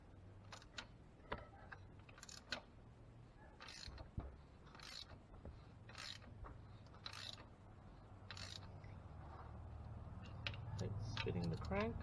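The crankshaft of a 420A engine in a Mitsubishi Eclipse is turned by hand during timing belt work, giving faint, irregular mechanical ticks and clicks with soft creaks, quiet and close.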